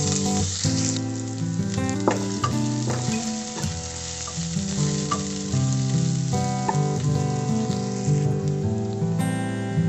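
Chopped onion and green chilies fry in a pan with a loud, continuous crackling sizzle and spattering pops throughout, alongside some background music and no speech.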